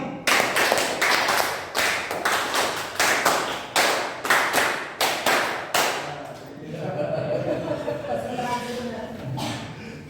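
A group of adults claps together in counted bursts, with sharp, evenly spaced claps in short sets for about six seconds; a voice then speaks over a quieter background.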